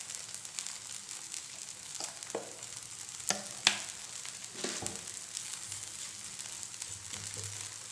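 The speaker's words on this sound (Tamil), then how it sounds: "இப்போ எண்ணெய் ஊற்றிக்கலாம்." Oil poured onto a poha and wheat flour adai cooking on a pan brings a soft continuous sizzle, broken by a few sharper crackles and spatula clicks, quiet and close.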